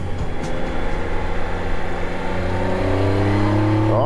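BMW motorcycles on a group ride near Edmonton, Alberta, engines droning loud and close, with one bike's revs climbing toward the end over a steady rumble.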